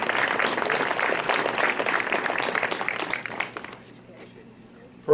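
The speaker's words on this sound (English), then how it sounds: "That's all right to clap." Audience applause at an awards night ceremony: a room of people clapping steadily for about three and a half seconds, then tapering off into quiet before a voice starts.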